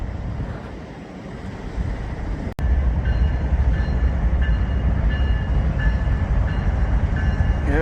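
Northbound freight train rolling past at close range, a steady loud rumble of rail cars with wheel squeal and wind noise, continuing without a break after a brief dropout.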